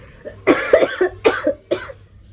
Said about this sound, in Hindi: हंसने में भी खांसी आ रही है